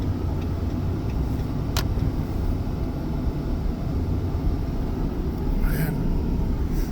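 A car creeps slowly along a snow-covered road during a snowstorm, its steady low engine and road rumble filling the interior, with a voice heard at times over it.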